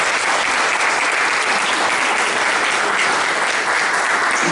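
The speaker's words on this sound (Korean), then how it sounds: "다시 한번 박수를" An audience at a book launch event breaks into loud, continuous applause, many hands clapping close and full without pause.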